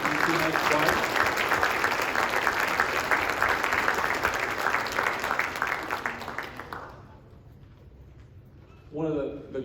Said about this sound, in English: it would definitely be appropriate to give them a round of applause